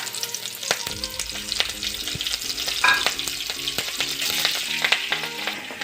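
Slit green chillies and whole cumin seeds frying in hot oil in a home kitchen, a steady close sizzle with scattered spits and pops and a few stirring clatters, no talk.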